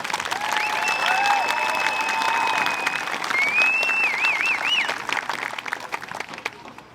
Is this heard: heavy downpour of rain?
no